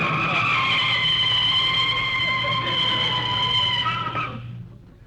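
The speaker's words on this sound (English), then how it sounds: "You can start putting on the brakes." Car braking with long squealing tire skids as a radio sound effect, a loud sustained screech that holds steady for several seconds, then fades out as the car stops.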